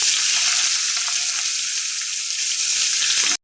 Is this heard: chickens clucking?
no